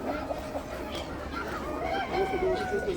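Roosters packed inside a vehicle at a market in Brasov, Romania, crowing and clucking at moderate distance amid faint chatter and background bustle.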